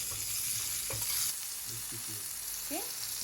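Tomatoes fry in hot oil in a pan for a cafe-style big breakfast, a continuous close sizzle with a few soft scraping stirs and utensil taps.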